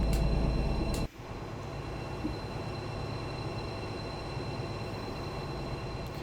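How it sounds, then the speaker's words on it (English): Locomotive-hauled stock running on the Linke Rheinstrecke in Train Sim Germany, a steady rumbling run with a droning hum after a brief louder opening moment, with no voices. "There's so much Train Sim Germany stock running on this route now"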